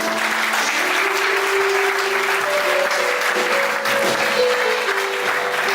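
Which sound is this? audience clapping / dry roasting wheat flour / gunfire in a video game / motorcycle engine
audience clapping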